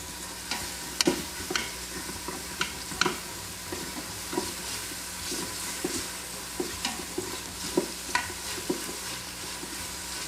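Onions seasoned with salt and pepper sweat in an Instant Pot, giving a steady soft sizzle broken by scraping stir strokes at an irregular pace, close and moderately quiet, with no talking.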